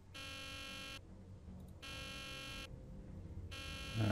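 Alarm buzzer in the video game Nancy Drew: The Deadly Device, sounding in repeated harsh bursts of about a second each with short gaps between them, fairly close and alone.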